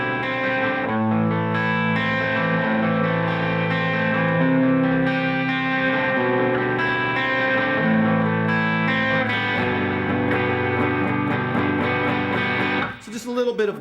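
Electric guitar played through a clean amp set with a touch of gain for slight bite, overdrive pedal bypassed; loud sustained chords and picked notes ring continuously, ending with a brief pause and a final strum.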